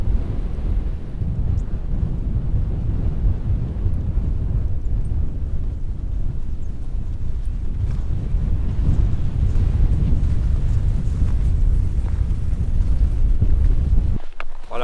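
Steady, loud wind buffets the microphone during a ski crossing of the open Lapland fells, a continuous low roar with no voices.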